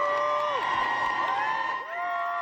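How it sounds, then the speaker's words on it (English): Protesters at the Tennessee State House cheer and whoop with high, sweeping shouts as representatives enter, a lively crowd noise at moderate distance. "Protesters applauding the representatives as they entered the Tennessee State House right before that vote."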